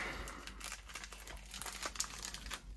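A sealed Apple Pencil package shipped from China is unwrapped close by, with quiet continuous crinkling and tearing of plastic and paper in short irregular bursts.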